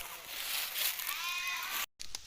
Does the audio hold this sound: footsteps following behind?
no